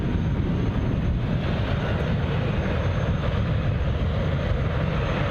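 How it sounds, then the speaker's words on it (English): British Airways Airbus A319 airliner arriving at Glasgow airport, a steady broadband engine roar with deep rumble holding constant throughout, fairly loud and continuous with no voices. "Next arrival will be another British Airways, this one a baby bus, A319 from Heathrow."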